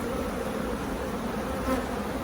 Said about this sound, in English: there's going to be quite a lot of nurse bees in here